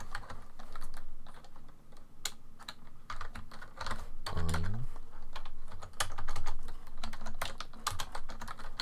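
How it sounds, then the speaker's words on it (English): Close, continuous clatter of a computer keyboard being typed on in irregular bursts during a gaming stream, with a short low thump partway through. "Hope you like the sound of typing"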